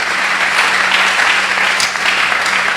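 A church congregation claps through a Thursday worship service, a steady, full round of applause that fills the room and stays loud from start to finish.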